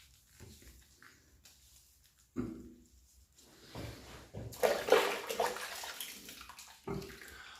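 Water splashing as a face is washed with the last of the shaving lather, quiet handling at first, then louder bursts of splashing and running water toward the end.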